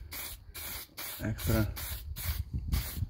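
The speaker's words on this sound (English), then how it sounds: "I'm using for extra protection clear lac" Clear lacquer sprayed from an aerosol can onto a scratched motorcycle mirror, loud hissing bursts in repeated short pulses, close up, with someone speaking briefly over it.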